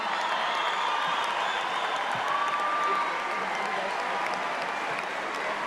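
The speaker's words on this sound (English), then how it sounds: "A little bit larger round of applause." Steady applause from a large audience at a high school graduation fills the space, a dense continuous wash of clapping that holds level throughout without pause.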